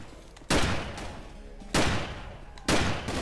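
Gunshots in Zombie Panic Source: three loud, separate firearm blasts spaced about a second apart, each with a sharp crack and a rumbling tail, fairly close.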